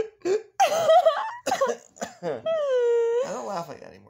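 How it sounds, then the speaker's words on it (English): Smoker's cough, a few rough throaty coughs mixed with moaning vocal sounds and a drawn-out groan, close and fairly loud, in short broken bursts. "your smoker's cough is worse than mine"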